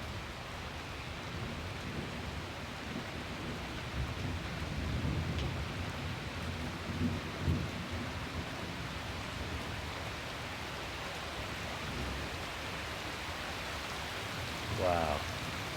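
Rain falls in Fayetteville, Arkansas as a steady, soft, hissing wash over a long stretch, with faint low rumbles and a few brief louder bumps, heard alone at modest volume.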